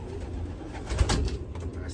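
Young racing pigeons coo softly in a loft, a low muffled murmur with one brief louder coo against steady background noise.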